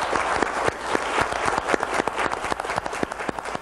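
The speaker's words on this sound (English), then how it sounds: "Sonja Graham, we applaud you and are so proud" An audience in Duncanville applauds at a recognition ceremony, many hands clapping loudly and close, with crisp individual claps standing out in the dense, lively applause.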